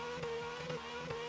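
A drift car on the ADC Big Entry Circuit revving hard and bouncing off the limiter as it waits for another gear, a buzzing engine note with three quick rhythmic surges, steady and fairly loud.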